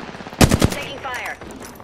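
Burst of rapid automatic gunfire in an Apex Legends match on Storm Point, three or four loud close shots in quick succession, followed by fainter electronic game effects and whirring.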